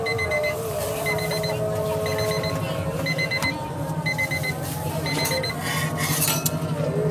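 A timer alarm beeps in steady repeating bursts of quick tones, about one group per second, over a constant background hum and clatter, with no clear speech.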